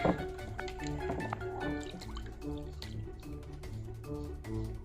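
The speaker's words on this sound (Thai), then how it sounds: "หินรับมีดตัวนี้นะครับต้องแช่น้ำนะครับ ให้ อิ่มตัวนะครับ ก็นำหินลงไปแช่ในน้ำเลย" A knife-sharpening whetstone soaks in a container of water, air escaping from it in a soft, steady run of bubbling and dripping, close and quiet, with no talking.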